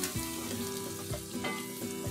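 Chopped vegetables and the white part of spring onions being stir-fried for prawn fried rice, with a steady close sizzle under a few rhythmic scraping stirs of the spatula, and no talking.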